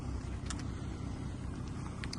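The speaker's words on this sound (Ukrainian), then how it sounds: "Прислухатись, як мурчить автомобіль" An Audi S6 engine idles with a steady low rumble, constant and fairly quiet, with faint clicks above it and no talking.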